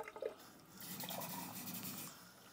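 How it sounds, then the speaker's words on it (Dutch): Tap water is poured from a faucet into a container, a faint steady splashing stream with a few drips at the start, quiet and close. "Pak ik weer leidingwater."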